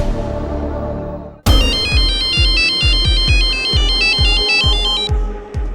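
A telephone ringtone breaks in suddenly and loud, a bright repeating electronic melody over a steady rhythmic pulse, cutting out just before the end.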